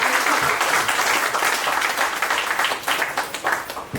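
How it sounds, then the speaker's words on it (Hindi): An audience at a talk about earning money claps together in dense, continuous applause that stays loud and fairly steady, with no speech over it. "ताली होना चाहिए।"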